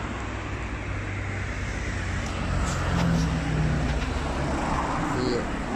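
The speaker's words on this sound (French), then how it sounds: "bien sûr, il y a des voitures" Cars pass along a street at night, a steady broad roar of traffic with one vehicle swelling louder midway, close and continuous without any talk.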